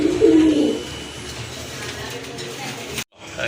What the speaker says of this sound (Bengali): এক জোড়া রাজগোল্লা কবুতর